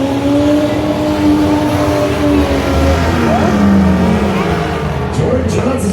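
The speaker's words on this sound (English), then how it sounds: "George Johnson's got to keep that truck running" A racing truck engine roars in a county fair Baja race in Warren, Minnesota, revving and shifting pitch continuously, loud and close, while an announcer talks over it.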